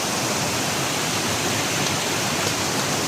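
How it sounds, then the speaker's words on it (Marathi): A waterfall pours in a dense forest, a steady broadband rush of falling water that stays even and unbroken for the whole few seconds, with no voices over it. "पाठीमागा सुंदर धबधबा पाहतात"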